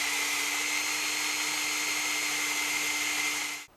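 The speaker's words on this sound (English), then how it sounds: "we've got our bridge holes drilled" A power drill boring bridge holes into a custom guitar body, a steady high whine held at one pitch for several seconds before it cuts off sharply at the end.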